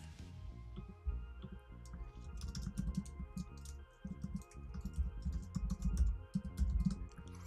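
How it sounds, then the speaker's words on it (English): A computer keyboard being typed on into a chat window, with a quick, irregular run of close, crisp key clicks over a low, steady background hum. "So I'm going to just make sure I type this in right here."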